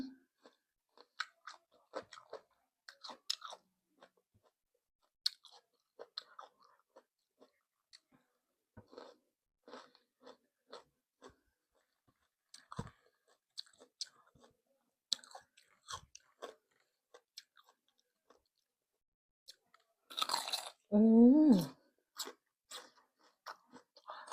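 Candied jujube fruit is chewed close to the microphone in sparse, crisp crunching bites separated by silences, ending with a louder burst of mouth noise and a brief vocal sound.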